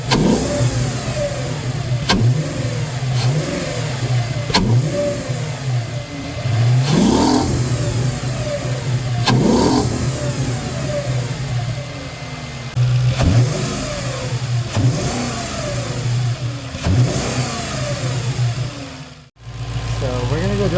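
A B6/B7 Audi S4 V8 fitted with a Jackal air intake, starting, idling and being revved in repeated loud bursts close by, with someone talking between the revs.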